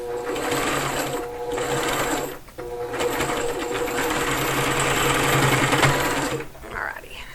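A sewing machine stitches fabric petals, going forward and back-stitching. Its steady close mechanical whir runs almost continuously, with a brief pause early on and a slowdown near the end.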